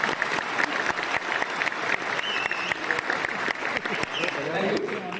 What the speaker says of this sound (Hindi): ताली बजाना है तो प्रॉपरली सब लोग ताली बजाओ।